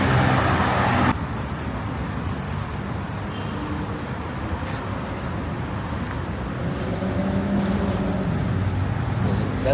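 Car engine and tyre noise as a vehicle rolls along a busy Bangkok street, a steady mid-level traffic rumble with a louder swell at the start.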